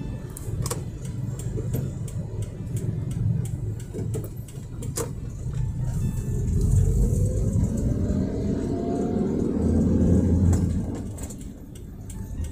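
Low, steady road rumble of idling and slowly creeping vehicles in a traffic jam at a U-turn, with engines droning nearby and occasional clunks, continuous throughout.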